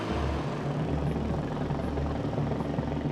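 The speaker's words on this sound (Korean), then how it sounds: "경찰 헬기는 굉음과 함께 강력한 서치라이트를 비추며 새벽까지 순회 비행을 지속합니다" A police helicopter circles overhead at night during a labor dispute at a Ssangyong Motor plant, its steady rotor thump and engine roar constant and fairly distant, with no voices.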